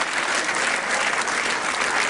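A crowd applauding after a wrestling bout that ended in a no-score draw, producing a continuous, even wash of clapping that holds loud across the whole stretch.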